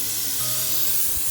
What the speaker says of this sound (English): I'll take my cooking spray, and we're going to just spray that leaf